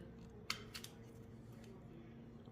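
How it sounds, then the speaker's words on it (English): Tin snips cutting thin sheet metal for a homemade fishing spoon lure, giving a sharp snip followed by a couple of quicker clipping cuts, close but fairly quiet over low background noise. "This, like I said, is a pair of tin snips."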